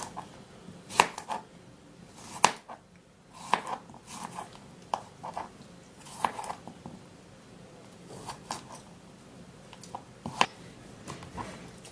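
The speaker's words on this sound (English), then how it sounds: "I'm going to be slicing it in cubes" A knife cuts cucumber into cubes on a board, giving sharp, close chopping taps at an uneven rhythm, roughly one to two per second, with soft handling sounds between them and no talking.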